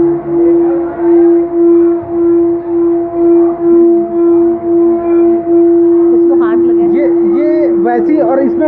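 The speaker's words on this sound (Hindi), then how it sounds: "इन्हें हम सिंगिंग बोल्स कहते हैं। इनसे लगातार ध्वनि उत्पन्न होती है।" Steady, humming tones from singing bowls ring continuously with a pulsing wobble, and a voice begins speaking over them toward the end.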